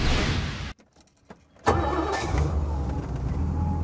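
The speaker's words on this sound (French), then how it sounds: "Même après 6 mois d'hivernage, un moteur qui démarre du premier coup" A 1962 Riva boat engine fires up on the first try after six months of winter storage: a sharp catch after a short quiet gap, then a loud, steady running rumble close by.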